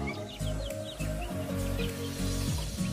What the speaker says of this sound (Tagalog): nakita nyo na yung ating mga 17 days old na mga sisiw